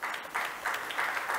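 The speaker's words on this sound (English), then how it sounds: "May we welcome them with a huge round of applause, please." Applause from a conference audience welcoming guests onto the stage at an international conference, a dense, steady wash of clapping at moderate level.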